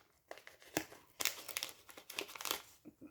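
Sticker sheets from a scrapbooking haul are handled and crinkled close up, giving irregular crackling and rustling bursts with a few sharper crinkles.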